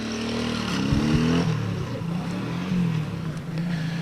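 A motorcycle engine roars close by, revving and straining in repeated rising pulls as it races a running man outdoors in Balıkesir, loud and continuous throughout.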